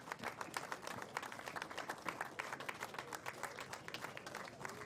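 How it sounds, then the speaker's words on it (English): Crowd applause for the Australian under-18 baseball team at an Oceania qualifier grand final against New Zealand, steady dense clapping from many hands held at an even level throughout, fairly faint and distant. "Give them a big round of applause."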